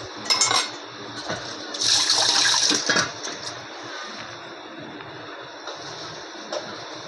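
Lukewarm water poured in to soak ingredients for a dried shrimp and elephant foot yam vegetable dish, heard as splashy pouring bursts that swell loudest midway, then settle into quieter trickling.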